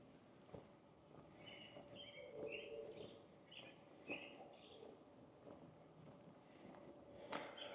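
A robin sings in short, faint chirping phrases during a spring walk past old buildings in Last Chance Gulch, Helena, Montana, over quiet outdoor ambience with a few soft footstep thuds.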